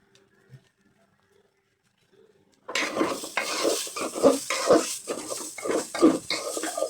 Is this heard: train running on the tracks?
no